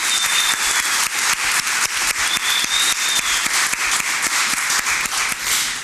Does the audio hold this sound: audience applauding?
yes